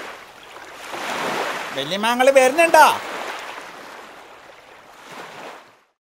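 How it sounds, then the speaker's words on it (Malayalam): Sea waves wash along the shore in broad rushing swells, and a person speaks loudly over the surf partway through. "തിരമാല"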